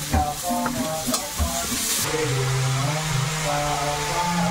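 Fish seasoned with salt and turmeric frying in an oil-filled pan, a steady close sizzle throughout with stirring scrapes and a few brief clinks, no talking.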